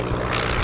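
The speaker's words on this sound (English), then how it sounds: "based on the Dutch Koolhoven FK-41 monoplane, operated by Richard Shuttleworth, used as air taxis for leisure flights" A vintage monoplane based on the Dutch Koolhoven FK-41 flies at an airshow, its propeller engine giving a loud, steady, broadband drone throughout.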